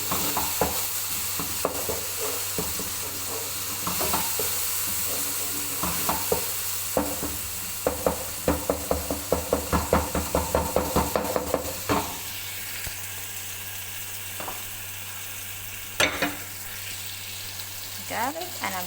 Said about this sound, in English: So at this moment I'm going to add in garlic.